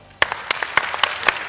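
Scattered handclaps from an audience at a comedy mimicry show, a handful of sharp separate claps spaced out over a moment rather than a full ovation.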